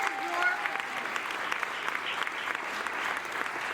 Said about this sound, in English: Faculty, staff, one more big round of applause